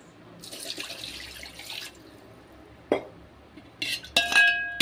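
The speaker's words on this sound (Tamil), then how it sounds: "இப்போ தேவையான அளவு தண்ணி விட்டுருவோம்" Water splashes and pours in bursts into a cooking pot for rasam, with a few clinks of metal and a short trickle near the end.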